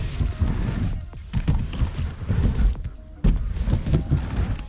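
Skateboard wheels rolling and rumbling across a cheap homemade wooden mini ramp, a steady low roar with swells and a sharp knock near the middle as the rider carves back and forth.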